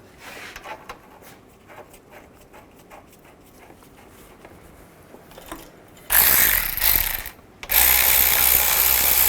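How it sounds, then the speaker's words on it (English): A ratchet tightens bolts on the radiator fan assembly of a 2010–2017 Chevrolet Equinox. Faint clicks and handling noises come first, then two loud, rapid bursts of ratcheting close up. "Put these bolts back in and tighten them down."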